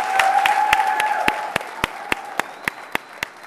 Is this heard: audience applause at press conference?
yes